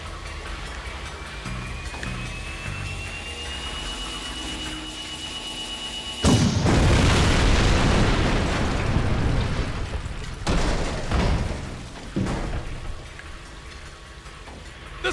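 A tank being blown up in the video game Jak II: a sudden loud, broad explosive blast with a sustained rumbling roar, followed by a couple of further bursts that fade into lingering crackle.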